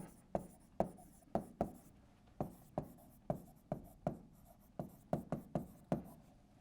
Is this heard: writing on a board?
yes